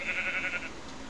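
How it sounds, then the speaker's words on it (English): A sheep in the Minecraft video game gives a single short, wavering bleat, clear and up close against a faint game hum. "It's a pink sheep."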